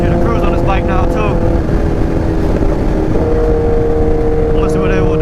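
A Kawasaki Ninja H2 sportbike with new gearing cruises at about 5,000 rpm on the road, its engine a loud, steady drone blended with constant wind rush that holds without a break.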